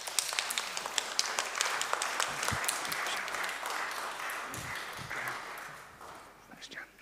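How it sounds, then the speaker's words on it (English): A church congregation applauds after prayers at a Sunday parish communion service: an even, moderately loud wash of many hands clapping that gradually thins and fades toward the end. "Let's give them a round of applause."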